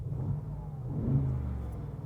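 Mercedes-AMG G63 with its 585 hp engine firing up, a short low rumbling start that swells briefly into a rev and settles into a steady idle, heard close from inside the cabin.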